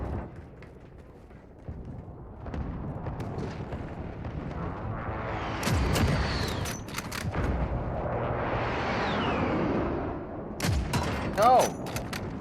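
Precision airstrike in Call of Duty: Modern Warfare, a swelling rush of incoming jets and rumbling detonations over scattered gunfire, with a loud whoosh building midway and fading into distant blasts.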